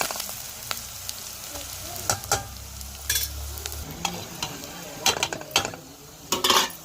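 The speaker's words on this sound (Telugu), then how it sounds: "కారం పసుపు సాల్ట్ గరం మసాలా అయితే వేస్తున్నాం కదండి అవి బాగా స్మెల్ పోయేంత వరకు బాగా ఫ్రై చేసేసుకోవాలి" Chili powder, turmeric, salt and garam masala fry in a pan with a soft steady sizzle, broken by repeated scraping strokes of a spoon and occasional clinks.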